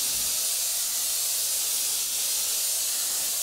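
An airbrush sprays air and paint while painting water droplets, giving a continuous, even, close hiss that holds steady throughout with no pauses.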